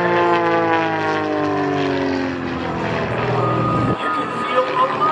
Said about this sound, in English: Now, in an airplane such as what Jason is flying here